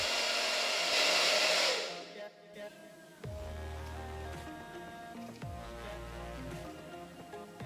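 A hair dryer on its cold setting blows over glued lace frontal edges, a loud airy rush for about two seconds, then cuts out and gives way to a low hum and soft handling noises.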